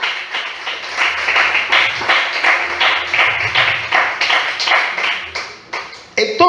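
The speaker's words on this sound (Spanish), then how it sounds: "Vamos a brindarle un fuerte aplauso a nuestro Dios." Church congregation clapping together in praise, a steady, fairly loud run of claps with a rhythmic beat lasting several seconds, with no talk over it.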